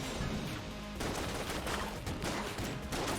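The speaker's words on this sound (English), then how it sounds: "Explosion." Dense, rapid bursts of explosive blasts and gunfire fill a hectic action sequence in Enter the Gungeon, loud and continuous with a sharp break after the first second.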